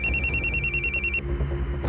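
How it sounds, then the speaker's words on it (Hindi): A telephone rings with an incoming call in a tense crime drama, sounding as a close, steady ringtone of rapid repeated pulses that cuts off after about a second, leaving a quiet room tone. "1 मिनट, उसी नंबर से फोन आया।"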